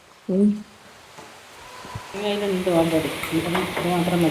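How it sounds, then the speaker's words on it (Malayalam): Cashew nuts frying in ghee in a home kitchen pan, a soft bubbling sizzle with stirring scrapes and a few light clinks, fairly close, growing busier toward the end with a voice briefly heard. "കുറച്ച് അണ്ടിപ്പരിപ്പ് മുന്തിരിയെല്ലാം നമ്മ വാങ്ങിയിട്ടുണ്ട്. നെയ്യിലൊന്ന് വറുത്തിടാറായിരുന്നു."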